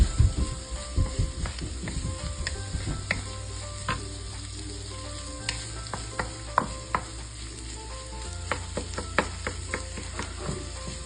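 Garlic fried rice sizzles loudly in a hot pan, a continuous frying hiss broken by quick clicks and scrapes from stirring.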